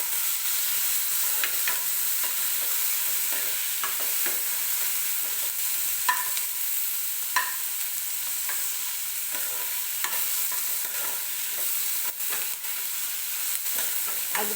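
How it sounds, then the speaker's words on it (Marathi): Tomatoes softening in hot oil with onion for a Karnataka-style susla breakfast, a steady close sizzle broken by scattered clicks and scrapes of a spatula stirring the pan, no voices. "तर हे बघा, टोमॅटो हलकासा मऊ होईपर्यंत आपण भाजून घेतोय।"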